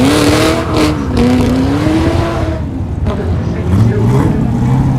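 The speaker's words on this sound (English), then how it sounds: "He's laid down a patch as he leaves" A HSV race car of the Team Penske outfit pulls away at a Leyburn sprint event, tyres squealing in a sustained rising whine as it lays rubber, close and loud while a commentator talks over it.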